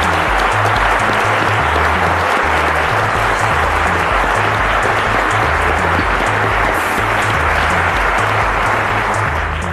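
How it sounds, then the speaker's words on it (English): Studio audience applause on a televised children's quiz show, loud and sustained throughout, a dense wash of clapping with a low musical bed underneath and no talk. "Ladies and gentlemen, a round of applause."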